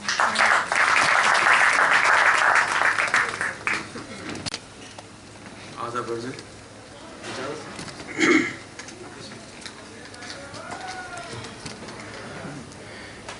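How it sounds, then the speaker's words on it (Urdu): Applause from an audience at an Urdu Academy tribute event, strong and sustained for about four seconds, then fading out as faint talking and scattered sounds follow. "آپ کی تالیوں کے ساتھ"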